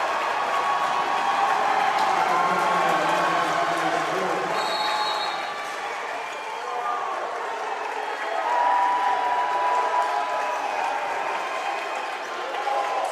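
Crowd roaring and applauding at a basketball game, a sustained broad wash of cheering and clapping that dips briefly midway and swells again, with a commentator talking over it.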